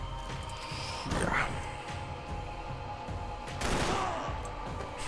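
Gunshots in the video game Max Payne 3 ring out in a few sharp bursts over a busy game soundscape, with two louder volleys standing out.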